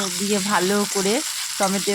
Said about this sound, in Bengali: কড়াইয়ে তেল দিয়ে পেঁয়াজগুলোকে দিয়ে দিয়েছি। এবার পেঁয়াজগুলো ভাজা ভাজা হতে এর মধ্যে আমি একটু টমেটো কুচু দিয়ে দিলাম।